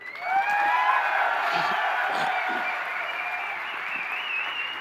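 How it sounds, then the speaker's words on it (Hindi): A crowd at an event in Kota breaks into sustained loud applause mixed with cheering and whoops, holding steady for several seconds at close range. "कितनी ताली बजनी चाहिए?"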